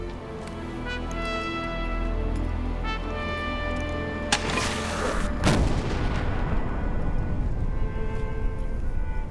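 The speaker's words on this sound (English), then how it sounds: "she fired 3 cannon every day in order to animate the gunners" Two heavy booms of cannon fire ring out over a steady low rumble, the second one louder, followed by a lingering noisy roar.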